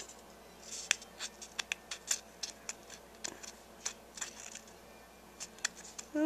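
Scissors snipping through cardstock for a handmade faux window card, a series of sharp, separate clicks and cuts spaced irregularly, close up and fairly quiet against a hushed room.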